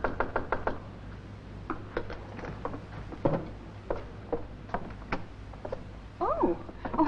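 Several quick, sharp knocks land on a front door at the start, followed by sparser raps as people talk in a radio comedy scene.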